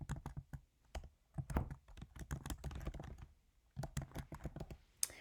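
Quick bursts of keystrokes on a computer keyboard, clicking in irregular runs with a brief pause midway and a sharper key tap near the end; close and fairly quiet.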